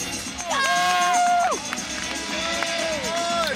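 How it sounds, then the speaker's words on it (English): A large crowd murmurs and cheers at a UConn men's basketball game against Furman in Gampel Pavilion, a steady arena roar with whistle-like tones and sneaker squeaks rising over the din. "Big crowd here at Campo Pavilion early in the day."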